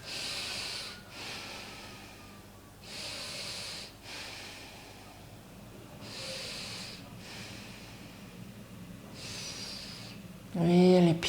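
During a yoga chest opener, several slow, deep breaths come in soft, hissing pulses spaced a few seconds apart, with a quiet stir near the end.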